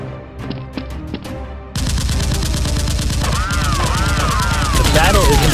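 Nerf blasters fire in rapid, dense volleys during a staged Nerf battle, a loud continuous rattle that starts abruptly after a few softer knocks and carries on to the end, with a sliding whistle-like tone layered over the middle.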